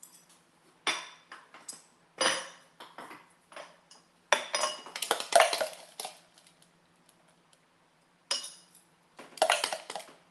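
Dry cheesecake crumb spooned into small dessert cups for mango cheesecake, giving a run of light clinks and scrapes of a spoon against the cups in scattered bursts, close by, with quiet pauses between and no talking.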